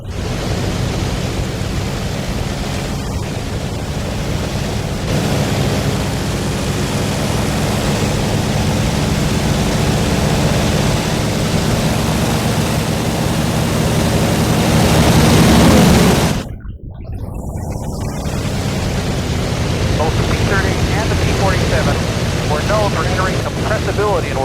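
A P-47 Thunderbolt warbird diving from altitude, a loud steady rushing roar of engine and wind that cuts out abruptly for an instant near the end before resuming.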